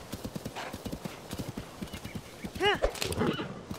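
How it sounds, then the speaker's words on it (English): In Zelda: Tears of the Kingdom, a bad-tempered, slow horse clops along with steady hoofbeats, then lets out a loud, clear neigh near the end of the short stretch. "You see this horse, he has a lot of temper."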